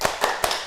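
A class of young children claps in unison during a classroom clapping chant, three quick, evenly spaced claps, near and fairly loud over a busy room.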